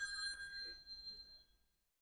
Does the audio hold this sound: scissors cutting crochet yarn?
no